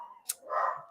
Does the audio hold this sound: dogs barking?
yes